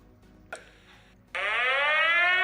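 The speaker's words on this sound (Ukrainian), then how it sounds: "Увага! Повітряна тривога. Пройдіть найближче укриття." An air raid alert alarm: a sharp click and a faint tone come first, then a loud, steady, harmonic siren tone begins and holds to the end.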